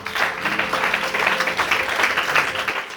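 A church congregation applauds with dense, steady clapping that fills the room for a few seconds, loud and continuous with no pauses.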